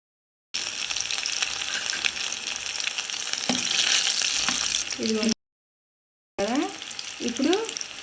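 Steady hiss and crackle of tempering spices (mustard seeds, cumin, dried red chillies and curry leaves) frying in hot oil, loud and close, broken by a brief silence and a few faint voices near the end.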